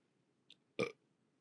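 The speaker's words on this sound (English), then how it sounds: "I like hiccuped and burped at the same time." A short, quiet click followed by a single abrupt burp, made while hiccuping at the same time, close and isolated against near silence.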